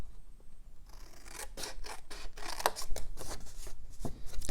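Scissors cutting scored paper card while making a tea box, a string of crisp close snips and rustles that speed up into a steady run of cuts.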